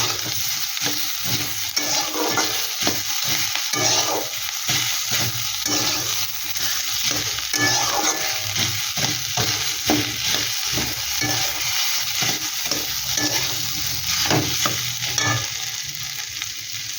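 Three boiled potatoes fry in a pan with little oil, sizzling steadily while a utensil stirs and scrapes in a quick, repeated rhythm, close and fairly loud, with no talk.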